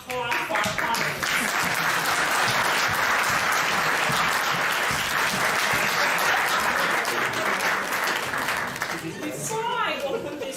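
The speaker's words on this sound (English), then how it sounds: "Now you can all clap for our panelists." A conference audience applauds the panelists after a debate on Biafra, a dense, loud, sustained clapping from a large crowd that fades slightly at the very end.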